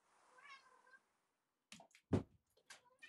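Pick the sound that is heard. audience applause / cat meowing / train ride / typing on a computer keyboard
cat meowing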